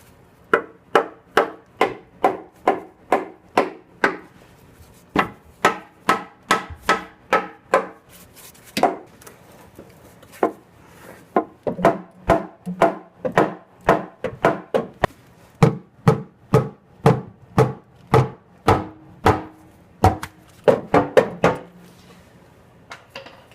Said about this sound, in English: you're just going to tap this with the plastic hammer